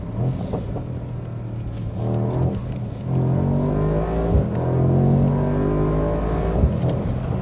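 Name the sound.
Mercedes V8 sports car engine revving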